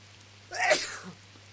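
A single loud sneeze from an audiobook narrator voicing a servant, one sharp breathy burst lasting about half a second in otherwise quiet narration, a vocal imitation of a sneeze.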